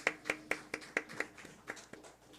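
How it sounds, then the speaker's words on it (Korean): A small church congregation claps at a Korean sermon on restoring a church's fervour, the sharp claps spaced unevenly and softening toward the end, close and fairly quiet with no talk. "박수 한번 해주시죠"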